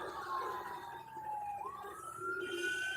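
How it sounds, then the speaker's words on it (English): Emergency vehicle siren wailing in a street in Envigado, Colombia on a Saturday night, a single rising and falling tone heard faintly at a distance over low city background noise. "Well, then you got the sirens wailing"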